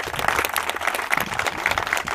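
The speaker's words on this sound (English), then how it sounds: "put a round of applause for Niall Ring, who's here representing the Dublin Lord Mayor" Audience applause at a commemorative event in Dublin, a dense, lively patter of many hands clapping together that continues without a break for the full length.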